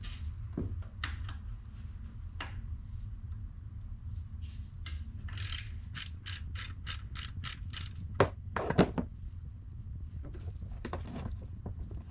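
A socket ratchet loosens a 12 mm alternator adjuster bolt on a Mazda FC3S RX-7, giving quick runs of crisp, close metallic clicks with short pauses in a quiet garage.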